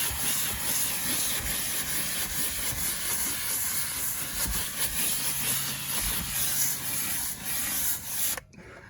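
A Harbor Freight 1500 watt steam cleaner (model 63042) hisses in a steady, loud rush of steam close by, with a rubbing, scrubbing texture, then cuts off abruptly near the end.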